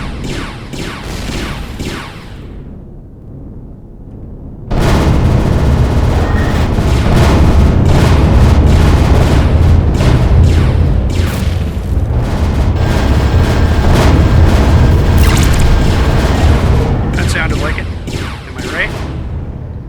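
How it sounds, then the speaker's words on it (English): Laser guns firing in the Empyrion Reforged Eden 2 space game, clearing structures around a point of interest: after a quieter start, a dense, loud stream of booming, crackling weapon blasts runs steadily for about fifteen seconds, with a voice talking over it. "That's the little laser gun taking out the other bits and pieces around the POI."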